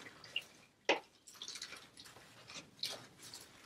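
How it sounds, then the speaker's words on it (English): Water squeezed out of wet felted wool into a water bin makes faint drips and small splashes, several irregular spatters spread over a few seconds in a quiet room. "You can squeeze out some of the excess water into your water bin."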